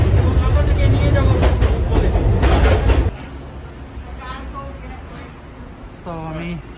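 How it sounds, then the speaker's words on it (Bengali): A New York subway train pulls in with a loud, steady rumble for about three seconds, then drops to a softer interior hum while someone speaks. "অলরেডি ট্রেন চলে এসেছে, আমি ট্রেনে উঠে যাব"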